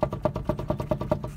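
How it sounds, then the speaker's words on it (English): A low, rhythmic thumping from a worn wheel bearing on a Vauxhall Vivaro knocks repeatedly at a steady pace, about eight beats in under two seconds, faint and muffled with road rumble beneath. "that noise is already a sign of the wheel bearing is gone"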